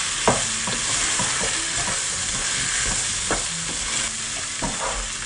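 Spices, including a little garam masala, frying in a hot pan while being stirred, a constant sizzle broken by repeated light scrapes and knocks of the spoon against the pan, with no voices.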